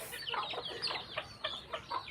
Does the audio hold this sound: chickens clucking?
yes